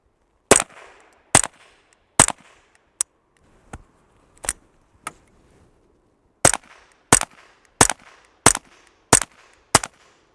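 Ten suppressed .22 rifle shots through a Lynx suppressor with Federal Supersonic ammunition: sharp, loud, isolated cracks in two groups, spaced roughly a second apart, with silence between and no talking.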